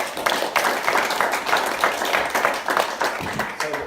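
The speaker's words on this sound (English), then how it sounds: "let's give a huge round of applause" An audience claps at a talk on medical applications of psychedelics, a steady, lively round of applause with distinct individual hand claps heard up close.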